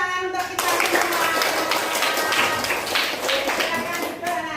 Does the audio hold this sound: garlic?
no